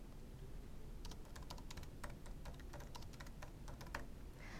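Quick, close keystrokes from a computer keyboard tap in irregular bursts over a steady hum of background noise, with no one speaking.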